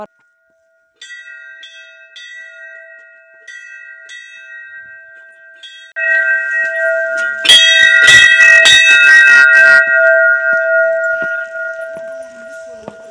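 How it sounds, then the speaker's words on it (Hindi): Temple bell struck repeatedly at Harichand Devta temple, bright ringing tones with sustained overtones growing louder and denser mid-way, several strikes overlapping and fading out. "उसके बाद फिर घंटी बजाते हैं"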